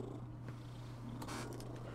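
A domestic cat purrs close by at home in a steady, continuous rumble, with a few faint clicks and rustles in the room behind it.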